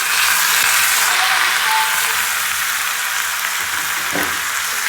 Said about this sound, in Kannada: ಕಾಳನ್ನು ಹಾಕ್ಕೊಂಡು ಫ್ರೈ ಮಾಡ್ಕೊಂಡಿದ್ದೀನಿ